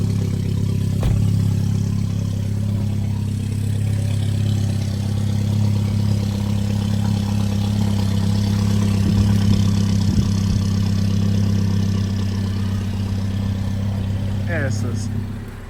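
A loud Volkswagen Polo GTI engine idles with a deep, steady rumble and a few brief revs, running continuously close by.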